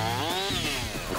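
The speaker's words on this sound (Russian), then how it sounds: "Откуда-то даже слышен рев бензопилы." Chainsaw roaring at a 4x4 off-road training ground in the Dmitrov district, a loud, continuous revving whine that rises and falls in pitch, heard alone without talk.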